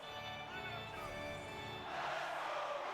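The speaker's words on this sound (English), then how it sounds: "The Bruins crowd getting into this one." A Boston Bruins home crowd in an NHL 24 hockey arena roars at moderate, distant volume, the noise swelling louder toward the end under a constant arena murmur.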